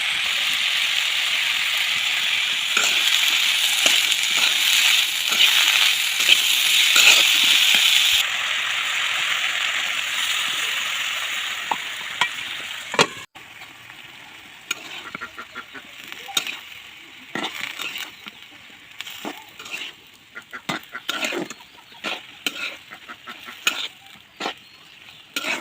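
Curry sizzles loudly in a hot pan for several seconds, then the frying quiets and a spoon scrapes and clatters in an irregular rhythm as the curry is stirred.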